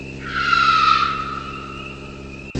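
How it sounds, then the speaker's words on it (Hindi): A scooter brakes suddenly with a sharp tire-skid squeal that swells, holds and tapers over about two seconds, ending in a short click. "ये सुनकर मनोहर अचानक स्कूटर रोक देता है"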